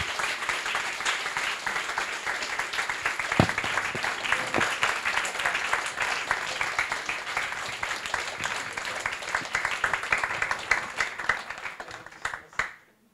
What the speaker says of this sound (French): Vous pouvez applaudir si vous voulez.